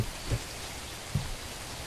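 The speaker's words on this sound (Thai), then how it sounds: "ฝนตกแบบนี้" Steady rain falls in a horror video game, a dense even hiss with a couple of soft low thumps, and no voices.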